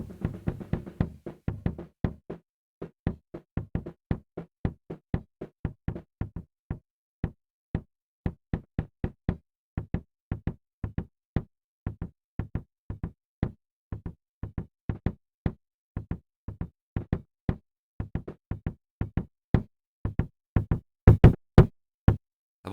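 Isolated punk rock kick drum hits on a muted solo track, a steady run of punchy, close thuds at an even rock tempo that gets louder and denser toward the end, with no other instruments or voices.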